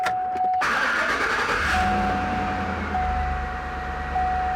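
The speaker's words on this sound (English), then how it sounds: "Let's start the car." Chevrolet pickup truck engine cranking briefly and catching, then settling into a steady idle close by, with a thin electronic tone from the cabin running through it.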